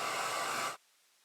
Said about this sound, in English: my impatience is going to hit that with the blow dryer